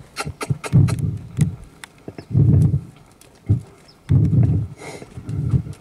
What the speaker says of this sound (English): we're going to go back into a little bit more here into the canter